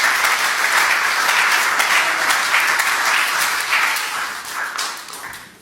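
A church congregation applauds, dense sustained clapping from many hands filling the room, loud and even before tapering slightly at the end.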